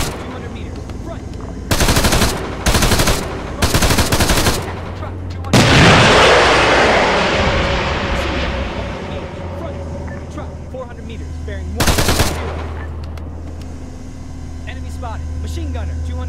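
Automatic machine-gun fire in combat, with several loud rattling bursts in quick succession, a heavy roaring blast that slowly fades, then one more short burst over a low background rumble.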